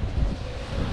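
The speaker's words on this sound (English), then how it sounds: "it got real windy around that corner" Steady wind buffets the microphone in a brief, low, rumbling gust with no other clear sounds, on the water in the Florida Keys.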